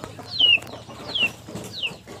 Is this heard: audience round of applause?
no